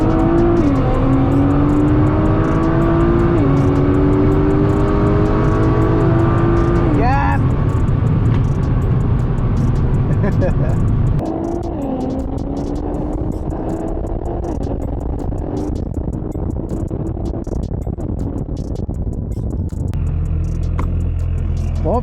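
A Dodge Hellcat drag races a Nissan GT-R as engines roar and rev hard through rising gear pulls with whining shifts, loud and close, then settle into a lower drone while people talk over the noise.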